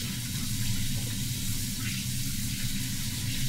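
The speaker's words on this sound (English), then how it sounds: "Okay, rinsing my hands." Running tap water pours steadily as hands are rinsed at a kitchen sink, a continuous close hiss with no voices.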